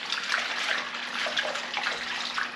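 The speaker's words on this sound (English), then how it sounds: "what we're gonna do is just wash our materials" Deer hair and bucktail for fly tying are swished and worked by hand in a basin of water with a little dish soap, giving a steady, close splashing and sloshing that continues without pause.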